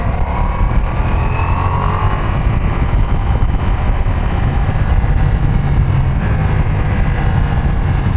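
Ducati Multistrada V4S motorcycle ridden through Alpine corners, its engine a steady, loud, continuous drone with wind rush throughout, holding a fairly even pitch and level across the whole stretch with no talking.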